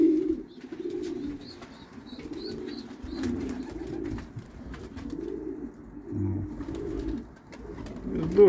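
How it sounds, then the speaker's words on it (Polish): Pigeons in nests in a loft, several birds giving low, rolling coos in repeated phrases, close and steady, with faint higher chirps and a little background noise. "Dużo gołębi z różnych linii"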